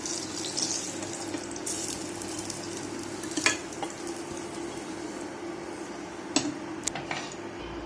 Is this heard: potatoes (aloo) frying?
yes